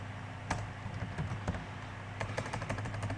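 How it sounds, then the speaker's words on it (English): Rapid, uneven clicks of typing on a computer keyboard, close and fairly quiet, with a short pause before a quicker burst of keystrokes. "So I'm typing this here because it's easy."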